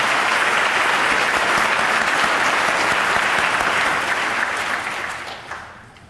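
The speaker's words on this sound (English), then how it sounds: "Please give them another round of applause." Sustained applause from a ceremony audience for the band at a military retirement ceremony, dense and steady for about five seconds before tapering off and fading near the end.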